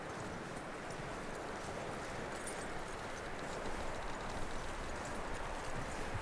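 Horse hooves clip-clopping in Red Dead Redemption 2, a steady, moderately quiet stream of hoofbeats over a constant broadband wash of ambient noise.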